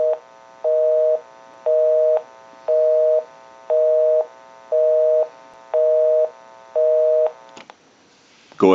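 Busy signal on a Western Electric 302 rotary desk telephone handset: eight evenly spaced tone bursts with equal gaps, steady and clear, ending in a clunk of handling noise as the handset is moved.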